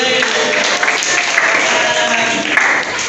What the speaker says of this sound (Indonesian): Tepuk tangan untuk kelompok Fikri.